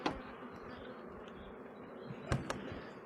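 A swarm of honeybee foragers drones in a steady, dense buzz, close and continuous, with a couple of brief sharper knocks near the end.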